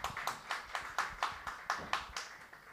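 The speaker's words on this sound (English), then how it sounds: "Please give him a round of applause." One person claps alone in a steady rhythm for a speaker at a blockchain rollup talk, about ten distinct close claps, evenly spaced and fairly quiet, with no other voices.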